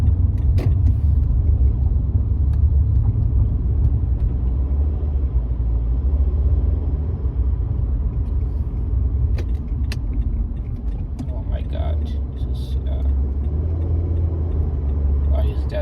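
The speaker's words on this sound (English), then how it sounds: "Traffic here." Road traffic in Uganda rumbles continuously with car engines and passing vehicles, a dense, steady roar close by, with occasional clinks and faint voices in the background.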